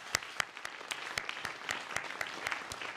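A forum audience applauds panelists at a transportation event, with sparse, distinct claps spaced out over a steady backdrop of room murmur, suggesting a modest crowd clapping loosely rather than a thunderous ovation.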